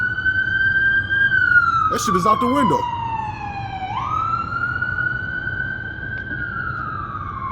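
An ambulance siren wails in long, loud sweeping tones that fall and rise as the vehicle passes nearby, with a person talking over it briefly.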